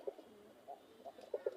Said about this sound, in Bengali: এই যে একটা কবুতর দূরের থেকে দেখাই